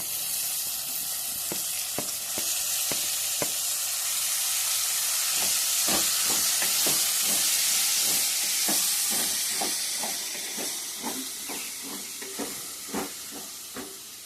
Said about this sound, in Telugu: ఫస్ట్ టమాటా వేసుకుందాం